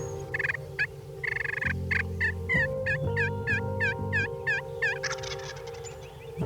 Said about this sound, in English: I have a bird gobble that doesn't sound like it's more than about 120 yards away